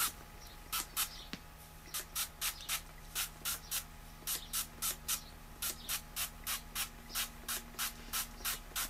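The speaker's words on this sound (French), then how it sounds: "c'est tout simplement à pulvériser sur la chevelure uniformément bien sûr, surtout là où on sait qu'on boucle" Curl-refreshing hair spray is pumped onto hair in many short, evenly spaced hissing bursts, close and fairly faint, repeating steadily with no talk.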